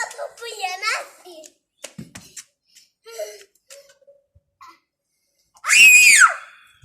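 A young boy lets out a loud, high shriek near the end, after some scattered child chatter and light handling noises indoors.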